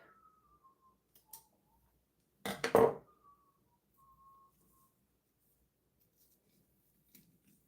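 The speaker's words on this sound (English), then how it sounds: "Can you hear the whistling in the background?" Faint, thin whistling in long drawn-out notes in the background, interrupted by a loud snipping and clattering up close.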